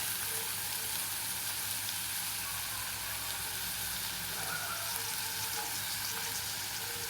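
Chopped onions fry steadily in a pan until brown for a spicy Maharashtrian eggplant bharit. A constant close hiss runs the whole time with no talking.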